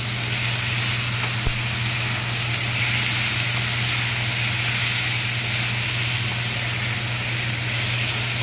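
Soaked fried paneer sizzles in a hot kadai, producing a loud, steady hiss and crackle that holds without a break from start to finish.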